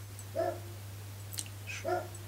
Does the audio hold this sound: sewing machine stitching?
no